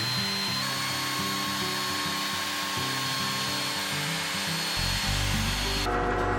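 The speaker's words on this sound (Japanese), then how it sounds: "トリマーを使って面取りをつけていきます。" Wood trimmer router chamfering the edges of a wooden board, a steady high-pitched motor whine with a grinding cutting tone up close, shifting pitch near the end as the cut changes.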